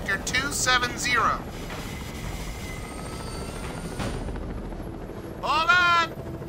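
A chopper hovers in the video game Stranglehold at Tai O, its steady rotor drone running continuously beneath bursts of shouted talk near the start and end.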